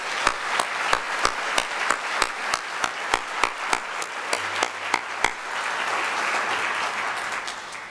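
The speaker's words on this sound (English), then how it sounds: "give him a warm round of applause" A symposium audience applauds its chair, opening with sparse, evenly spaced individual claps before the clapping thickens into a steadier round of applause that fades out gradually.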